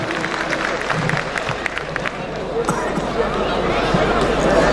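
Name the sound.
audience applause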